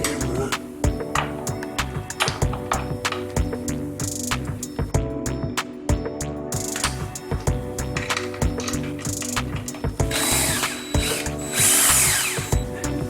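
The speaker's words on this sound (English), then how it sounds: "These are to be torqued between 15 and 19 foot-pounds." A torque wrench tightens the chain tensioner bolts inside a Harley-Davidson primary case, giving rapid, close ratcheting clicks in uneven bursts of mechanical clatter, with brief speech mixed in.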